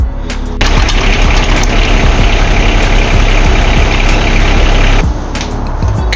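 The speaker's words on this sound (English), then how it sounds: "so I may have to start the tractor" A tractor engine starts and runs loud and close at a steady idle, with a rumbling vibrating drone that holds for several seconds before dropping back to quieter background.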